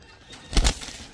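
A cream-eyed male Saharanpuri pigeon gives a single short, soft, low cooing burst close by, lasting under half a second amid quiet surroundings.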